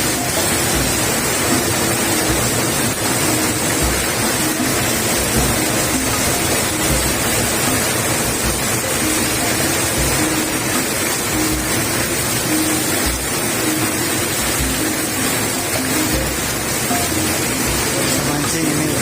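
Heavy rain pours down steadily during a flash flood while out fishing, a dense, continuous roar of water filling the scene at close range with no break for the whole stretch.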